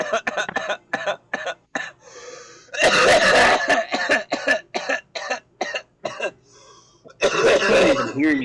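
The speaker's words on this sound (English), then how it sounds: "I was just coughing" Close, loud bursts of coughing and throat clearing in a rapid broken series, with a heavy coughing fit in the middle and another near the end.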